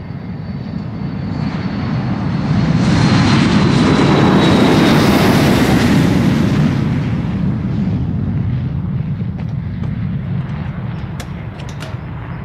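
A fixed-wing airplane passes overhead, its engine roar swelling from a distant drone to a loud peak around the middle before fading away again, with no voices.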